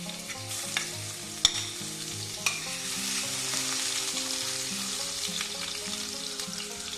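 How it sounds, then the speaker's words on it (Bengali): Garlic fries in white oil in a pan for pasta, giving a steady, close sizzle with a couple of sharp utensil clinks early on. Faint background music plays underneath. "এবার আমি এখানে দিয়ে দিচ্ছি সাদা তেল প্রথমে দিয়ে দিচ্ছি রসুন"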